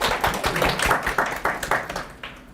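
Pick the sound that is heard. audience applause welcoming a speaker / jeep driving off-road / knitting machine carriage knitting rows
audience applause welcoming a speaker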